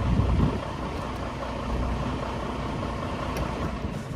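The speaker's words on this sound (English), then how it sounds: "The truck itself sounds really good." Truck engine idling steadily after a compression test and valve adjustment check, a continuous low rumble throughout with a slightly louder start, no talking.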